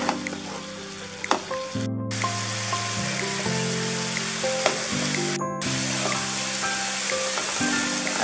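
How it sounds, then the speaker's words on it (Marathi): Chopped onions frying in a pan for Indian pav bhaji, a steady loud sizzle that runs without a break, with stirring scrapes and faint tonal music underneath. "तर ह्या कांद्याला सोनेरी रंग येईपर्यंत भाजून घ्यायचे"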